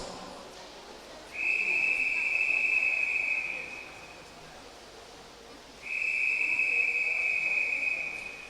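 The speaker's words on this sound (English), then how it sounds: "We'll go to 2 blasts the whistle, 1 on the way in and 1 on the way out." Two long, steady whistle blasts at a swimming championship race, each lasting over two seconds with a few seconds' gap between them, sounding loud and shrill over the hum of a pool hall.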